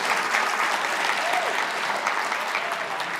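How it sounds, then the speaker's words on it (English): An audience gives a warm round of applause to guests who came up to tell their story. The clapping is a steady, even wash of many hands with no talk over it. "will you please give a round of applause for these folks who were so kind to come up and tell their story"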